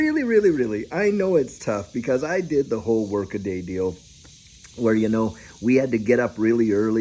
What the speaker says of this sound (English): And you hear the cicadas in the background and things like that.